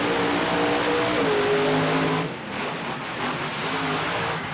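The Gravedigger monster truck at a stunt show revs its engine loudly and steadily, a harsh roaring drone that dips briefly and then continues amid a noisy arena background.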